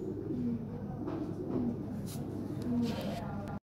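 European Lahore pigeons coo in a few low, repeated phrases spaced across a few seconds, steady room noise beneath and a voice talking throughout.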